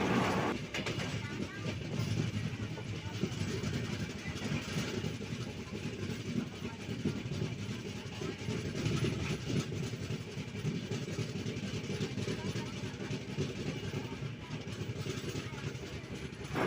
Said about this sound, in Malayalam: നമ്മുടെ വണ്ടി അങ്ങനെ തൃശ്ശൂർ റെയിൽവേ സ്റ്റേഷൻ ഇങ്ങനെ എത്തിക്കൊണ്ടിരിക്കുക കേട്ടോ